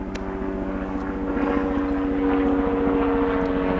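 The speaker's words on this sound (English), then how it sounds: "I will wrap up the sound of the chopper blades" Helicopters flying overhead, a steady loud droning engine with a low rhythmic blade chop that stays constant and grows slightly louder, no voices over it.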